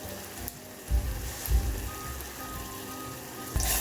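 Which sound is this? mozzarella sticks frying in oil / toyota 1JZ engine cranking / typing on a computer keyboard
mozzarella sticks frying in oil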